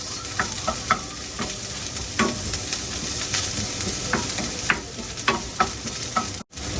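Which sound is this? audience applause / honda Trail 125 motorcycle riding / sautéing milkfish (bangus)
sautéing milkfish (bangus)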